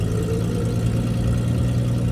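A car engine idles steadily with a deep, constant rumble and hum, loud and close, without changes in pitch or any talking.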